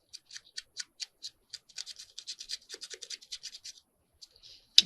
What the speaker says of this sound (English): So let's tear this off. It's a popping noise again.